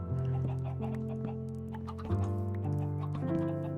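A few short electronic-sounding Minecraft chicken clucks pop over sustained background music, close and moderately loud.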